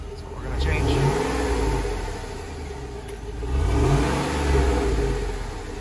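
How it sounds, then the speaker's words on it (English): A 2006 Chevrolet Tahoe engine with its stock exhaust and stock catalytic converters rises and falls through two revs, a muffled mid-pitched rumble heard close by, and a voice is heard briefly. "That's it, stock exhaust."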